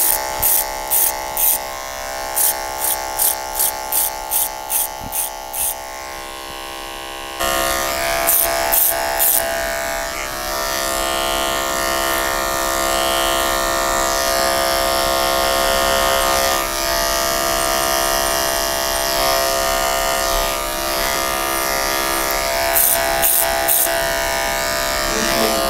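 Electric hair clippers buzz steadily through a clipper-over-comb skin fade without guards, close and continuous, with a rhythmic run of short clipping strokes at the start and a few more later, no talking.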